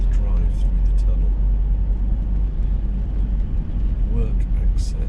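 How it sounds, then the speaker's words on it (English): A car drives through a road tunnel, and a deep, steady engine and road rumble fills the space continuously. A person talks over the rumble. "So I'll pull back a little so that we can enjoy the drive through the tunnel."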